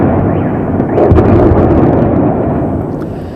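Russian artillery shelling over Kiev before dawn, heard as a heavy, rumbling blast that swells about a second in and then slowly fades, loud and low, within news footage.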